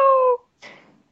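A person imitates a cat with a short, clear vocal meow, followed by a softer breathy trailing sound after a brief pause.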